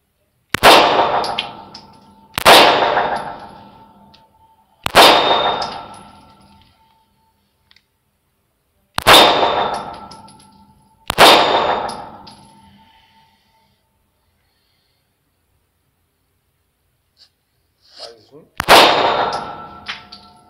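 Six sharp shots from a Taurus TS9 pistol firing Federal ammunition crack at uneven intervals, each followed by a ringing metallic clang off a steel target that fades over a second or two, with silence between.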